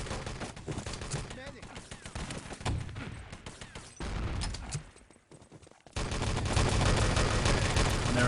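Rapid automatic gunfire and bursts of shots fill a 6v6 Enemy Territory LAN tournament grand final match, loud and continuous with a brief lull midway before resuming densely.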